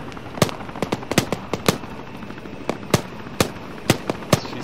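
Gunfire in Arma 3 rings out from the distance to the north, a dozen or so sharp, irregular cracking shots in bursts and single reports over a low ambient bed.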